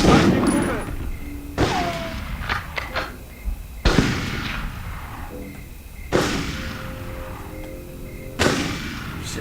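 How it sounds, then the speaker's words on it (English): Gunfire in the Medal of Honor video game: several sharp loud shots spaced a couple of seconds apart, each followed by a decaying echo, with scattered smaller cracks and game noise between. "who's shooting?"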